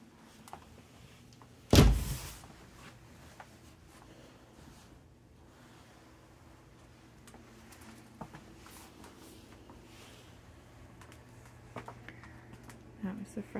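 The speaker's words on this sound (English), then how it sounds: "That was the front door again." Front door of a house shutting, one sharp loud thud early on, followed by a long quiet stretch with only faint room noise and small knocks.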